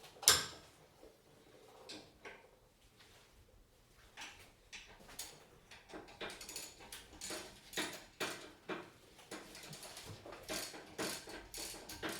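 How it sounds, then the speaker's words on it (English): Breaker bar ratcheting on tight front brake bolts of a Hyundai Santa Fe, a run of close, fairly quiet clicks and mechanical snaps in an irregular rhythm, with no talking. "we can't use the impact, so we have to use a breaker bar"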